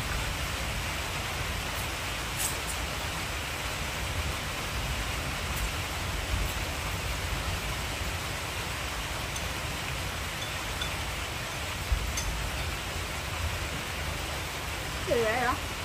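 Heavy rain pours down in a steady, unbroken hiss, moderately loud and even from start to finish, with a brief voice heard near the end.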